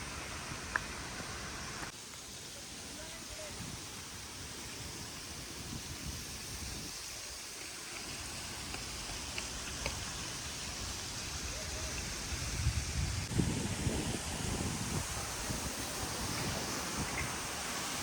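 Rushing water from the KP waterfall near Khopoli, Lonavala, fills the scene as a constant broadband roar with wind buffeting the microphone, steady from start to finish with a slight surge near the end.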